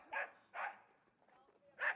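A guard dog on a bull-breeding ranch in Ronda, Spain barks three times, short sharp barks with a pause before the last, fairly close and clear.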